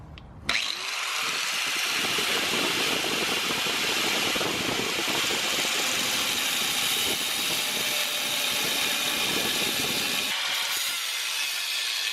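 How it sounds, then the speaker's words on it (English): An angle grinder cuts into metal on a Honda CRX front suspension during an overhaul, a loud, close, unbroken high-pitched whine with a harsh grinding rasp that starts abruptly and runs for about ten seconds before stopping. "I am using a grinder, so you gotta have a lot of control with it"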